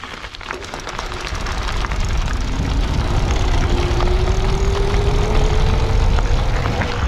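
A DŌST DROP electric bike motor whines under throttle, a thin tone climbing steadily in pitch as speed builds, sitting over a steady rush of wind and road noise.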